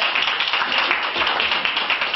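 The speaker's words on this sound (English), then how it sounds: "can I have a huge round of applause for the candidates?" Audience applause for candidates at a student election hustings event, a steady dense clapping from a crowd that fills the room evenly and continuously without pause.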